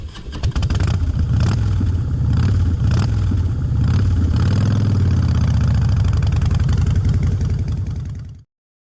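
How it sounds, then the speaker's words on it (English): Motorcycle engine running steadily and loud close by, with a low throbbing idle that swells slightly midway before cutting off abruptly near the end. "Where is the motorcycle?"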